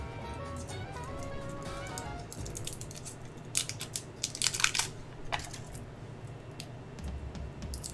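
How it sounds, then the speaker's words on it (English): Starburst candy wrappers crinkle and rustle in short close bursts as they are unwrapped, quiet and intermittent over a faint background hum. "Last couple of candies that I have to unwrap tonight."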